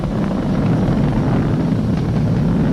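Falcon 9 rocket engines rumble during ascent as a steady, dense, broadband roar with no breaks.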